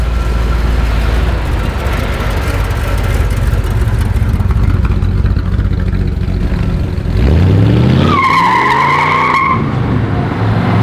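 A 1967 Shelby Cobra 427 doing burnouts and donuts, its engine roaring loudly and steadily with tire noise throughout, ending in a rising rev and a brief high squeal of the tires before it cuts off.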